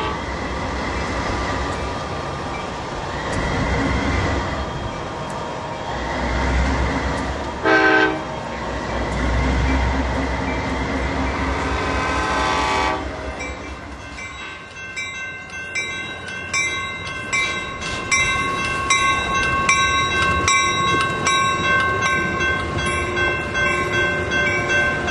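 An Altamont Corridor Express commuter train rolls past crossing East Weber Street, with heavy rumbling and clattering wheels, sounding several loud horn blasts before the rattling continues alone.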